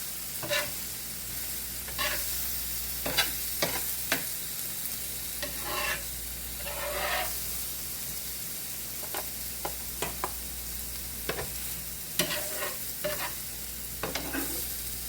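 Shrimp sizzle on a homemade hibachi griddle with a steady crackling hiss, broken by repeated sharp clicks and scrapes of a utensil on the hot metal surface. No one talks.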